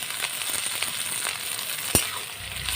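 Cumin seeds and dried red chilli sizzle in hot oil in a pan as onions go in, making a continuous crackling fry with stirring clicks and a sharp tap near the end.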